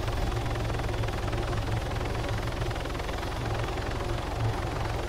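Continuous rotor and engine drone of a video-game helicopter during an offroad emergency-services session, steady and fairly loud with a rhythmic low chop throughout, no speech.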